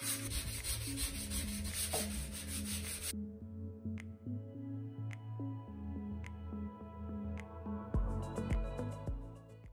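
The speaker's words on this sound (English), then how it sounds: "I'm just using one of my orbital sanding papers or sanding discs, so I don't have to buy a block or anything like that." Orbital sander with a 220 grit disc smoothing filled spots on a hallway wall, a steady rubbing, abrasive whir close by that drops and shifts partway through, with a few sharp ticks and scrapes.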